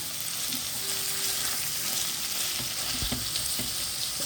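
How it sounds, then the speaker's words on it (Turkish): Minced meat with onion, pepper and tomatoes sizzles in a pan, making a steady bright crackle, with occasional soft scrapes and taps of a stirring utensil, close and without talk. "Bir iki kavurduktan sonra çok fazla aşırı kavurmanıza gerek yok."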